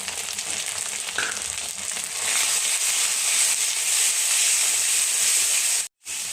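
A masala of garlic, ginger and green chilli paste with coriander and cumin powder fries in hot oil. It sizzles loud and hissing at close range, growing brighter after a couple of seconds, then cuts out briefly just before the end.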